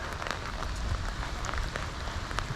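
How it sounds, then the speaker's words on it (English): Steady rain patters on the water and surroundings during a fishing outing, a dense even hiss of drops with occasional louder splats, close and continuous with no talk. "It looks like the rain's gonna let up again,"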